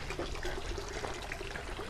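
Water pours and trickles steadily into a container for puppies outdoors on a country property, a soft continuous splashing heard alone.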